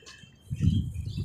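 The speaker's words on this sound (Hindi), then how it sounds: "माशाल्लाह से आज़ाद कर दी कबूतर।" Jungle pigeons being released, a soft low fluttering burst of wings swelling in the second half, close by, with faint chirps in the background.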